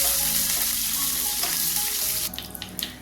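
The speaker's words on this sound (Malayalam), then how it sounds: "ഇതിലേക്ക് നമ്മൾ നേരത്തെ എടുത്തു വെച്ചിരിക്കുന്ന ഉണക്കമുളക് ഇട്ട് കൊടുക്കാം" Dried red chillies hit hot oil for tomato chutney, producing a steady close sizzle and hiss that settles a little softer near the end, with a few light clinks.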